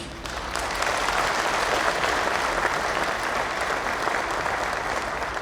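A crowd at a 2024 Daegu–Gyeongbuk New Year reception claps in sustained, even applause that starts after a short pause and continues at steady volume.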